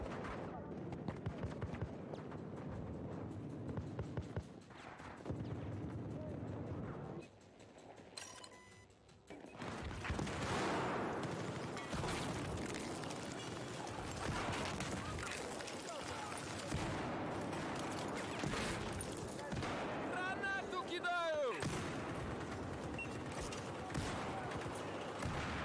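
Gunfire in the video game Battlefield 4 on the Hainan map: rapid bursts of automatic fire and heavy crashing shots throughout, with a brief lull midway, under a player talking excitedly.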